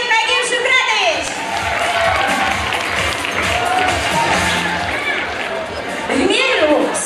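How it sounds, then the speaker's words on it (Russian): Audience applause and cheering at a televised talent-show qualifying round in a concert hall, a sustained crowd roar of clapping and voices lasting throughout, swelling again near the end. "Итак, ваши аплодисменты"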